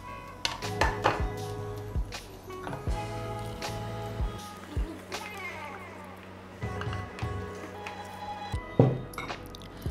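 Broad beans pickle being spooned into a dish, with clinks of utensil on pot, soft squishy scrapes and a few sharp knocks, close and intermittent, with brief voices in between.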